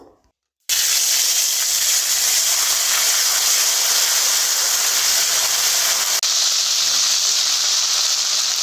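Spice paste hits hot oil while cooking Bengali vegetable khichuri, setting off a loud, steady hiss that runs unbroken and close after a brief quiet start.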